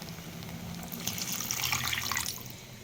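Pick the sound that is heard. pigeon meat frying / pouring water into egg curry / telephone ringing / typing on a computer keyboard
pouring water into egg curry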